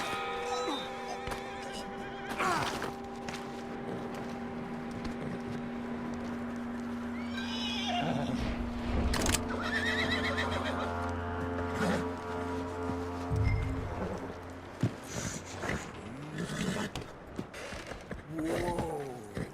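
A horse in the video game Red Dead Redemption 2 whinnies and snorts, with clip-clopping hooves and other background sounds as it shifts about.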